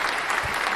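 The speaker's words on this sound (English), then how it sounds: "So we'll give it that clap." A short burst of clapping played as a sound effect during a livestream show, dense and steady for under a second with no voices.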